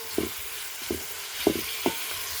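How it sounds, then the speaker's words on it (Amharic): Onions fry in a pan with a soft continuous sizzle, broken by four or five quiet stirring clunks at uneven intervals, with no talking. "ሽንኩርታው እያቆላለሁ ነው ማለት ነው"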